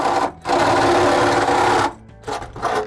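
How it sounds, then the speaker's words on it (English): A Sawzall reciprocating saw cuts back the shifter hole in the floor of a 327-powered Chevy Nova, a loud, close, steady buzzing burst of about a second and a half, then shorter stuttering strokes after a brief pause. "so we actually do need to cut that hole back a little bit. Sawzall time."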